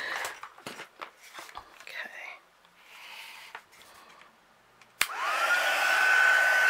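A heat gun melts and sets embossing powder on a stamped card-making project: quiet rustling and handling come first, then a click and a loud, steady whooshing blow with a faint tonal whine.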